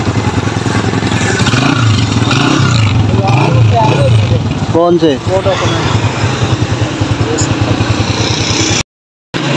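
A motorcycle engine runs throughout, a steady mid-pitched rumble close by while people talk over it, ending with a brief cut to silence.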